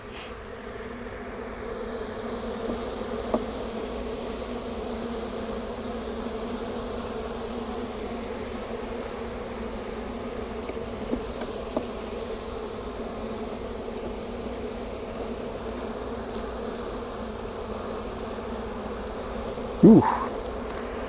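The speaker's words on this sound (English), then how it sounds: "There's a bee trying to take all the propolis off my thumb." Honeybees hum continuously around an open beehive during a hive inspection, a steady close buzzing drone lasting many seconds, with occasional faint handling clicks and a brief louder knock near the end.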